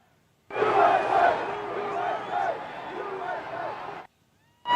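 A large crowd at a Trump rally on January 6, 2021 roars and cheers with shouts. The loud, sustained swell lasts about three and a half seconds and then cuts off abruptly.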